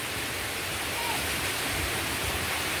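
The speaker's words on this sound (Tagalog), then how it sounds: "Ay, lumaki talaga ang alon" Large floodwaters surge during Typhoon Paolo, a continuous loud rushing roar of churning water and breaking waves with no pause or variation.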